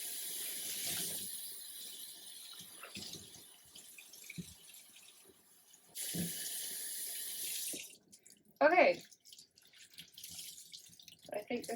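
Ice-dyed pants rinsed under a running tap, with water gushing in loud bursts, pausing and restarting, plus splashing and handling noises at close range.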